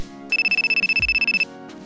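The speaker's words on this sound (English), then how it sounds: "my phone out of nowhere started ringing" A phone ringtone rings close and loud, a fast pulsing electronic trill lasting about a second, with a short low thump partway through and quiet surroundings before and after.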